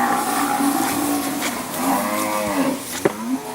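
Weaner cattle mooing in a cattle yard as they are moved through force pens, with several long drawn-out bellows close by over steady outdoor noise and no talk.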